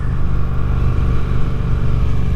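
A 2024 Triumph Speed Twin 900 motorcycle engine runs steadily and loudly up close, with a deep, even throb that holds throughout with no pauses.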